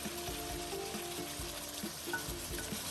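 Spices and tomatoes frying in a pan, with green and black cardamom, cumin and black pepper in hot oil: a steady, close sizzle with soft stirring scrapes throughout, no voices.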